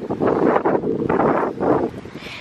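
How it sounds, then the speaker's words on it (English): Gusty wind roaring loudly up close on a beach in Maui, pulsing in uneven surges before easing near the end; nobody speaks. "It's windy."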